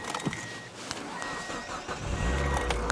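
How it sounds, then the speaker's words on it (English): A car engine cranks over and fires up after a winter jump start, the starter churn giving way to a steadier running rumble that builds louder toward the end, close by with no talk. "when I come to crank the car"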